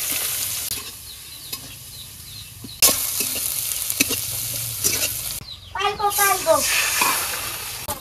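Chopped onion drops into hot oil with a loud sizzle that settles into a steady frying hiss, broken by stirring clatters and a brief burst of voice near the end.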